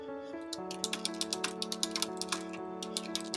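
Rapid, irregular keyboard clicks rattle away over soft background music.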